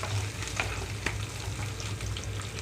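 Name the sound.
onions frying in a pan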